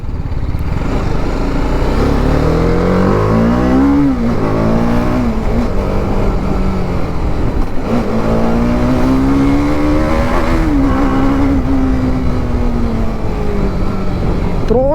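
A TVS Apache RR310 motorcycle accelerates hard on the road, its engine note climbing through the gears with repeated rising pitch sweeps and brief drops at each shift, loud and continuous with wind noise.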